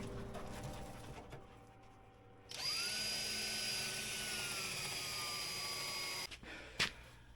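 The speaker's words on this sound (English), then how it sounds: "And I'm going to start drilling holes." A power drill boring rivet holes in a vintage free-air snowmobile being converted to liquid cooling, a steady high whine that runs for several seconds after a quieter stretch, then stops abruptly.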